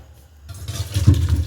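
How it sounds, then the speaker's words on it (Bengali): Water drains off boiled jujube fruit for a pickle, a short rushing pour that swells in loudness after a brief quiet start. "এবার আমি জলটা ভালো করে ঝরিয়ে নেব"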